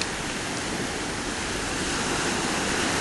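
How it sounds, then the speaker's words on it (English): Ocean waves washing in a steady, dense broadband rush that holds unbroken and loud from start to finish, with no distinct breaks or voices. "allow the waves just to wash over you"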